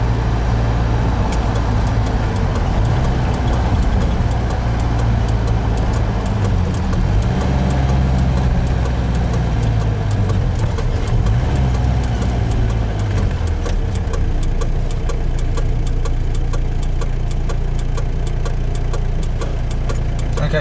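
A car engine holds around 1250 rpm while driving at night, giving a steady, loud low drone with a faint rattle and ticking above it, continuous throughout with no speech.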